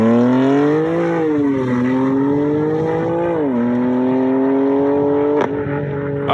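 A subscriber's car engine revs loudly and close, rising and falling through several throttle blips with a rough, droning exhaust note and no talking.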